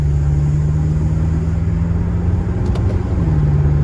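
A BMW F10 M5 with a Stage 2 tune on E85 mix hums steadily from inside the cabin, a low constant drone with road noise and a brief faint click near the end.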